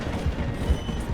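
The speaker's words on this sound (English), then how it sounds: "The train is slowing down to go through the station." A train in Red Dead Redemption 2 rolls slowly through a station, its carriages giving a low, steady rumble with faint rhythmic wheel knocks under the running noise.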